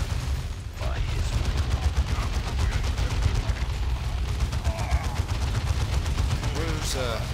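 Rapid gunfire fills a battle in the real-time strategy game Dawn of War 2, with dense repeated shots and heavy weapons firing continuously over a low rumble, while game voices speak underneath.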